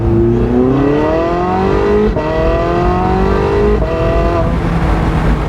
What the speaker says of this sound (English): with the exhaust coming out the back right here, you can really hear this thing run